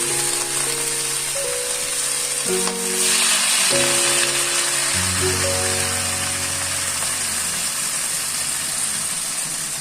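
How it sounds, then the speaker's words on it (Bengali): Leafy greens hit hot oil over lightly fried onions, giving a steady, continuous sizzle throughout, with sustained tonal notes ringing alongside it. "হালকা পেঁয়াজগুলি ভেজে এবার শাকগুলিকে দিয়ে দিচ্ছি"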